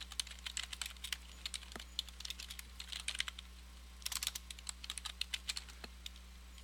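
Rapid typing on a computer keyboard in uneven bursts of close, crisp key clicks over a steady low hum, with short pauses between runs of keystrokes and no speech.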